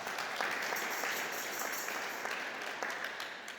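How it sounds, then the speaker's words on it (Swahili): A church congregation claps steadily and evenly, a dense, moderately distant patter of many hands that holds for a few seconds without a break. "Tupigie Yesu Kristo makofi"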